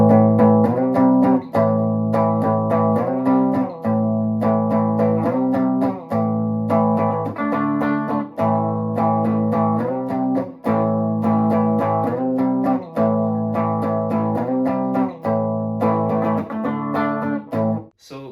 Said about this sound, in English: That's going to be my chorus guitar part, just power chords